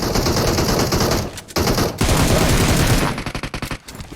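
Rapid automatic gunfire from an online multiplayer shooter game, loud and nearly continuous at first, then breaking into short choppy bursts near the end.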